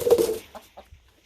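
Chickens on a property where a Bronco lift kit is being installed give a short burst of loud clucking, followed by a few softer, scattered clucks trailing off into quiet.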